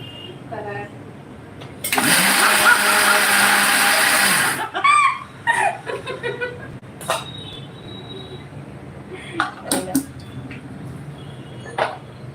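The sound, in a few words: kitchen mixer grinder running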